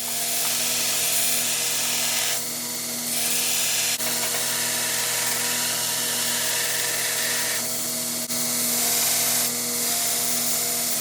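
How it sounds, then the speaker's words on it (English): A belt grinder grinds a forged blacksmith knife blade, a steady loud whirring hum with a harsher hiss rising in several bursts as the steel is pressed against it, up close with no talking. "So next we're going to go to the grinder and grind."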